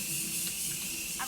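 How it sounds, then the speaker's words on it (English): Morphe setting spray mists onto a face, a soft close hiss sustained for about a second, with a voice talking over it. "we can finally go ahead and spray some Morphe setting spray on our face just"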